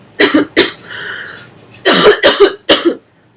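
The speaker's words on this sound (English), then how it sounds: "I feel I'm always coughing." A person coughs several times in quick bursts, close up, with a short pause and a breathy sound between the first and second groups.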